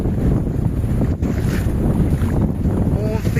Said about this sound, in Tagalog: Ang balod kusog kayo.